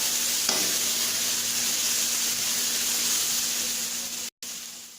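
Onions sizzle in a pan with ginger garlic paste while cooking soya keema, a steady loud frying hiss with occasional stirring scrapes and a brief cut near the end.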